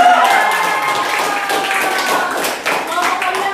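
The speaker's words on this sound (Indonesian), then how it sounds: "Beri tepuk tangan" A group in an adult-learning classroom session applauds, a dense patter of clapping that runs steadily for several seconds while voices carry on underneath.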